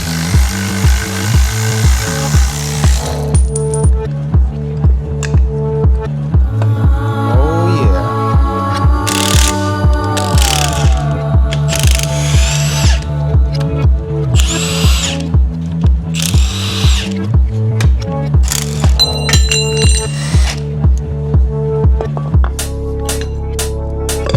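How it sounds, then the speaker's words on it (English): A power tool, likely an impact gun, rattles bolts off a Honda S2000 engine while the alternator and starter come off. It gives loud rhythmic pulsing bursts, near and steady for over twenty seconds, with short pauses and no talk. "Bolts rattled out."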